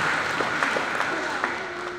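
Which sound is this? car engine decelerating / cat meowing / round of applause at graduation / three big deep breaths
round of applause at graduation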